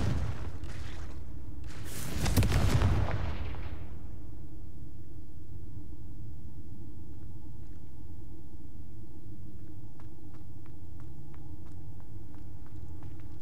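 Confringo blasting spell cast in a Harry Potter video game, a single heavy burst with a deep rumbling boom that swells and fades over a couple of seconds, followed by low ambient hum and faint ticking.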